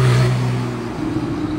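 A Porsche 911 Carrera of the 991 phase 1 generation downshifts, its engine rising in a brief loud blip before settling into a lower, rougher drone, heard close with no talking.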